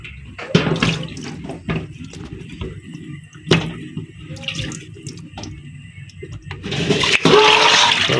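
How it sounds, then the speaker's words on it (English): Cooking water from a pot of boiled beef and potatoes pours out in a sustained, sloshing splash, rising louder and fuller near the end, with scattered clatter of the pot along the way. "let us pour out this water"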